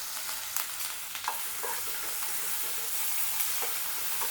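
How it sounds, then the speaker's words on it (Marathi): Chopped onion fries with ginger-garlic paste in a hot pan, a dense continuous sizzle with scattered spatula scrapes and pops, close and steady throughout, with no talking. "आता कांदा थोडासा परतून झाला"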